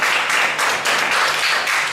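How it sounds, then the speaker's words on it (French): Steady broadband crowd clapping from an audience at a live stage show, dense and continuous for two seconds with slight surges, no voices over it. "On l'applaudit bien fort parce que ça va être super."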